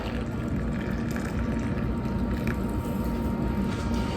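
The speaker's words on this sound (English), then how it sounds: "Now we're going to take a cup of boiling water" Boiling water poured into chocolate cake batter for an old-fashioned German chocolate cake, a steady, close, continuous liquid splash and pour that runs unbroken for about four seconds with no talking.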